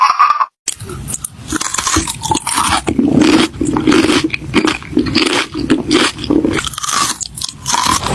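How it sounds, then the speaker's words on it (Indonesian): Crunchy chips being eaten up close, a loud run of sharp bites and crackly chewing crunches in an uneven rhythm, with no talk over it. "Ish, padahal yang kriuk-kriuk Cherry lagi makan keripik."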